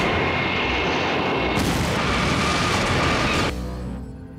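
Military aircraft roaring overhead in a film scene, a loud sustained engine rumble and whoosh with a brighter surge partway through, then fading slightly as it passes, with no voices.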